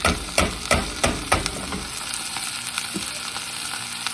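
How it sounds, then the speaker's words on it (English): Rinsed rice sautéing in a hot pan, opening with several loud rhythmic scraping stirs, then settling into a steady soft sizzle, no talk. "we're just gonna let this kind of saute for just a couple of minutes"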